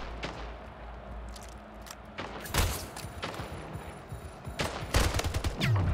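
Gunfire in Splitgate, a sci-fi arena shooter with portals: scattered bursts of automatic shots and sharp impacts at moderate distance, irregular and rapid, with no talk over them.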